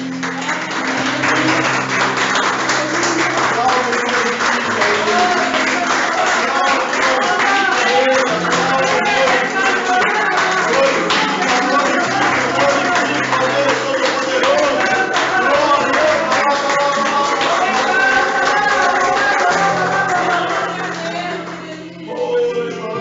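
A church congregation applauds in a sustained, dense wave of clapping through a worship service, loud and continuous, with voices and music mixed in before it thins at the end.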